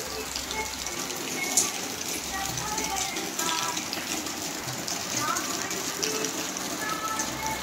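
Heavy monsoon rain in Konkan, a steady dense wash of falling water and drips outside a house, with a person talking over it.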